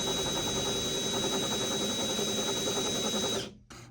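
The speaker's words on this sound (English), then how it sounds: "I just chucked the drill up on the speedometer cable" A drill spins a truck speedometer cable on a square-body pickup, giving a steady whirring mechanical drone with rhythmic pulsing, close and alone, before stopping abruptly near the end.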